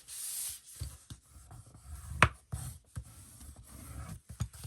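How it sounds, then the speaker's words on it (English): Scored paper folded for a craft document folio: soft rubbing and creasing scrapes in short irregular bursts, close and quiet, with one sharper crinkle in the middle. "Let's open that back up and we'll fold the bottom."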